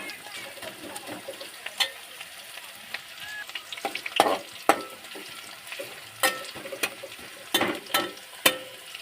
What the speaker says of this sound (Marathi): तर मी टाकून घेतले टाकून घेतले कांदा आणि मिरची टाकून घेतली